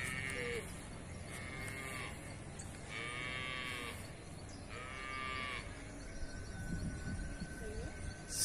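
Cattle moo repeatedly at a rural reservoir, four long lowing calls spaced about every two seconds, moderately distant over a steady background hum, with no speech.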